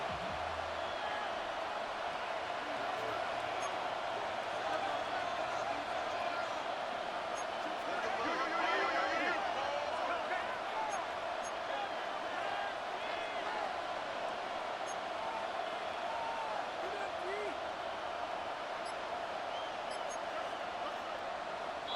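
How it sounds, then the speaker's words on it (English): A football stadium crowd roars steadily throughout, a dense wash of cheering and noise under a commentator's voice, swelling slightly near the middle. "This crowd is making it tough down deep in the red zone."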